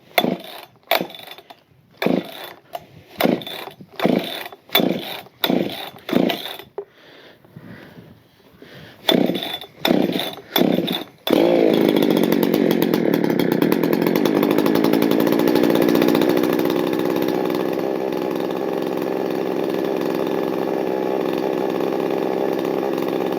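A Husqvarna 266 chainsaw is pull-started with a run of about a dozen sharp rhythmic cord pulls and short gaps between them, then it catches and idles loudly and steadily at close range for the rest of the clip.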